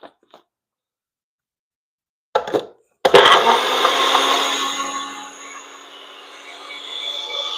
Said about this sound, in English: Let's blend this.